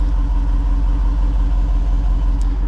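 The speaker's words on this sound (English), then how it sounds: "give you guys a quick outside view of what this thing sounds like just idling" A 2023 Jeep Wrangler Rubicon 392 V8 idles with a steady, deep, loud rumble from its quad-tip exhaust, heard from outside the vehicle with no talking.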